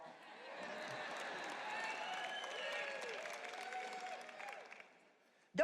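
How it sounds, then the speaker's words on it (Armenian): An audience applauds in sustained, dense clapping mixed with some voices rising from the crowd. The clapping fades toward the end, and a voice cuts in abruptly. "Այստեղ ավելի շատ են ծափահարում"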